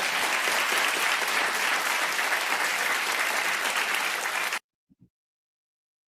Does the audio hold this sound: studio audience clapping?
yes